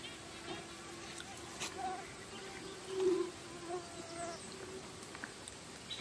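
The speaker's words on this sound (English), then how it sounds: "You can hear the whine of the mosquitoes." Mosquitoes whine faintly at a canoe campsite, a thin steady buzz with brief louder passes near the ear, over quiet background noise.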